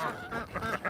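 Geese honking in short bursts as they are fed corn, a few loud calls overlapping close by with some background noise.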